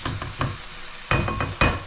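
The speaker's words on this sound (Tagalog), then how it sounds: "Ginisang tahong lang." Mussels sautéing in a pan with garlic, onion and ginger give a steady close sizzle with stirring scrapes, swelling in several bursts as the food is turned.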